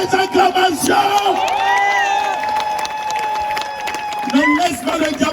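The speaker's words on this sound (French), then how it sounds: "Est-ce que je peux entendre des acclamations?" A large crusade crowd cheers and acclaims loudly for several seconds, a dense roar of voices and whoops that swells, holds and then eases back.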